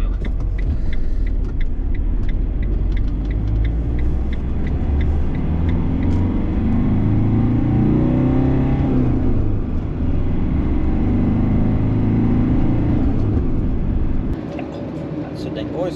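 A diesel car with an aftermarket engine optimisation drives and accelerates on a road, giving a steady, loud engine rumble and tyre roar that swells as it picks up speed and eases off near the end.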